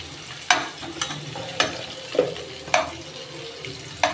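Onions frying in an oily pan under a low, steady sizzle, broken by regular spatula taps and scrapes about every half second, with no one speaking.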